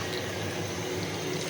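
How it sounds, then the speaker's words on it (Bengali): Hot water pours steadily into a pot of cooking beef tripe, a continuous rushing, bubbling flow with no voices. "গরম পানি দিয়ে দিচ্ছি"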